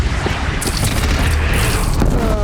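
A bridge is shot down in Horizon Zero Dawn, setting off a loud, sustained explosion: a deep rumbling boom that holds steady and heavy for a couple of seconds, with crumbling debris noise layered over it.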